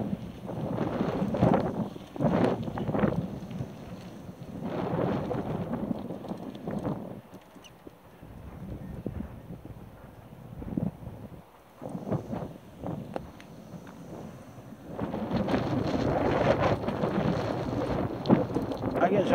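Strong south wind blowing in mid-October in Galicia, gusting and buffeting the microphone in surges that rise and fall, loud and close, with someone talking over it at times.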